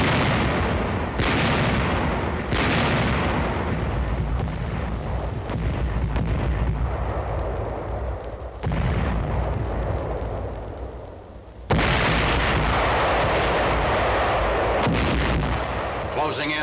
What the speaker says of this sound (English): The ultimatum is rejected and hundreds of guns open fire on the encircled city.